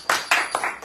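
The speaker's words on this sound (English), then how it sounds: "so let's clap for them" A few bursts of audience clapping at an evening devotional gathering in Hawaii, each burst starting sharply and fading over under a second, close and moderately loud with no talking over it.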